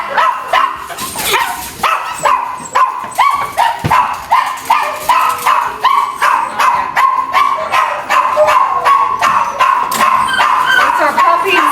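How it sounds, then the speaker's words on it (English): Several small dogs bark and yip rapidly and repeatedly, high-pitched and close, with whimpers mixed into the constant overlapping chorus. "These puppies just came in."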